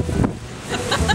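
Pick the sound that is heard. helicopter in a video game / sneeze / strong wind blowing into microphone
strong wind blowing into microphone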